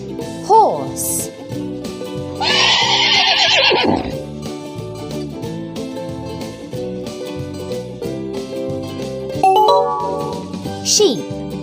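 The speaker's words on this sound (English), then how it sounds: "Horse." A cartoon horse gives a loud neigh in a children's animal matching video game, set against cheerful looping music with little chime and jingle effects before and after the whinny.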